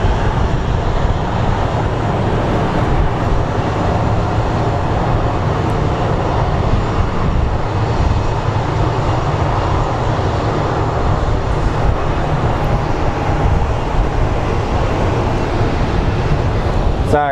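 Airplane at Phoenix Sky Harbor International Airport, a steady low engine rumble and whine holding at a constant level for the whole stretch, heard from nearby on the ground.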